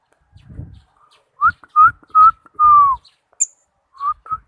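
Lovebird song in short whistled chirps, a run of four bright notes followed by a couple more after a pause, close and clear over low background rumble.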